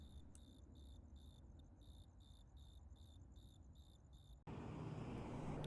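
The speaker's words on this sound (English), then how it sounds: "A loud cricket in the grass right here." A cricket chirps loudly and close by in roadside grass, its pulsed trills repeating in even bursts before a sudden rush of wind or passing traffic noise swells underneath.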